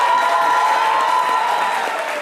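Studio audience applauding on a French-language midday radio show with a reggae artist guest, a steady dense wash of clapping at constant level throughout, without pauses.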